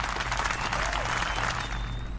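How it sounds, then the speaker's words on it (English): Short round of applause, a steady dense patter of many hands clapping at moderate distance, lasting about two seconds with faint background hum. "Round of applause."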